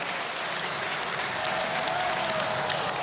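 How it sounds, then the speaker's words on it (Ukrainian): Applause from the audience in a parliamentary hall during a presidential address, a steady, fairly dense patter of clapping heard without voices for about three seconds. "Якісь вибіркові оплески"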